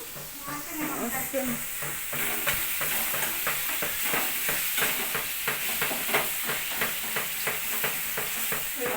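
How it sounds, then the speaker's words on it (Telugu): Curry being stirred in a cooking pan on a stove, with steady frying sizzle and a regular, close scraping rhythm of a spoon against the pan throughout. "పాప కర్రీ కలుపుతుంది"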